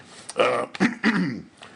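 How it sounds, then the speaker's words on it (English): Someone clears their throat close to the microphone in three short, rough bursts. "I had to clear my throat here"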